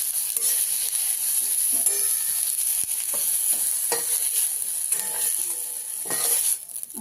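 Tomato frying in a kadhai, a steady close sizzle broken by repeated scraping stirs of a spatula across the pan.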